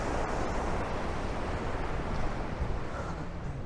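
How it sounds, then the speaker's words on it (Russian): Låtefossen waterfall in Norway roars as a steady, broad wash of rushing water, continuous and fairly distant, with wind buffeting the microphone. "а это был у нас водопад Лотефоссен"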